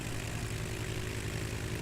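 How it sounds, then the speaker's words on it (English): A steady, distant engine drone of an airplane near a runway, low and unbroken throughout with a faint hum, no voices. "Like maybe an airplane on the runway down there."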